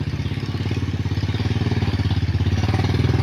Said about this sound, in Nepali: ल बाइक त आयो सर र बुलेट बाइक